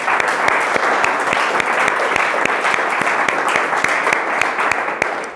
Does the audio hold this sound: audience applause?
yes